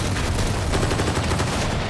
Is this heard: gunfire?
yes